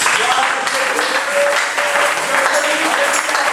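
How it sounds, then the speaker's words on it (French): Congregation claps steadily during a sermon, a dense continuous wash of applause with a voice running through it. "On applaudit."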